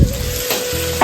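Sliced onion and chili go into a hot pan for Maggi noodles and burst into a loud, close crackling sizzle that fills the brief moment without any voices.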